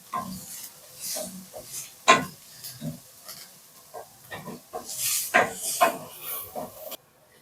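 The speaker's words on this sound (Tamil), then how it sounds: "வெங்காயம் கறிவேப்பிலையை வணக்கிக்கலாம்" Onions and curry leaves sauté in a pan, heard as intermittent close scrapes and stirring knocks over a faint sizzle, coming in uneven bursts.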